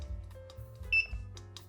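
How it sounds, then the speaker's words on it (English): Timer started for coffee brewing, a short high beep under faint background music. "I press the coffee and I start the timer"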